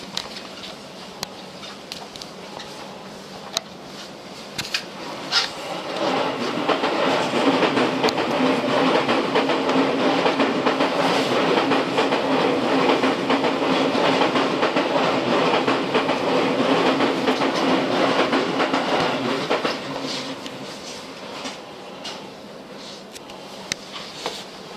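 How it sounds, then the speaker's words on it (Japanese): A Seibu S-Train commuter train on the run from Toyosu to Tokorozawa pulls away, and its rumble swells into a steady rolling roar with clicking rail joints. The sound holds for about fifteen seconds, then eases off into quieter cabin noise. "電車が動きます。"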